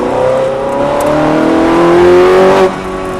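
Ferrari F430 accelerating hard to overtake on the Ledenon circuit, a loud, steady engine roar rising smoothly in pitch for nearly three seconds before easing off, heard from on board.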